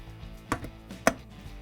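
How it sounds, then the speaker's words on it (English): Dishwasher door shut after the upper rack is pushed in and the rails seated on a GE dishwasher, heard as two clunking impacts, the second sharper and louder, in a quiet room. "we can close the door now"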